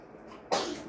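A single short, sharp sneeze bursts out nearby after a quiet moment indoors at home.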